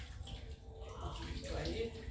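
Lemons being rinsed in hot water in a home kitchen, a steady wash of splashing and running water with a low rumble underneath and a few brief bubbling swirls.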